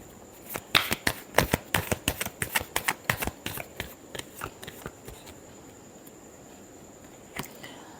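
Tarot cards are shuffled in a steady run of crisp, soft slaps and riffles, about a dozen close, quiet strokes that taper off, followed by a pause and one last faint flick.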